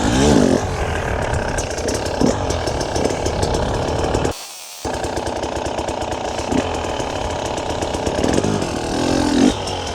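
A motorcycle engine revs and drones steadily through a slow wheelie as the clutch is eased out, a loud, close, rough buzzing tone that swells and falls in places, with one brief near-silent gap midway.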